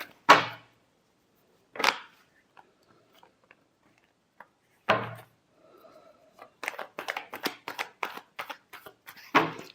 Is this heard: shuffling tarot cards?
yes